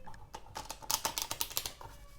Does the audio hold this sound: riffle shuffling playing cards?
yes